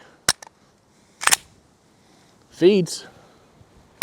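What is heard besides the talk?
PSA Micro Dagger pistol shots with OEM Glock magazine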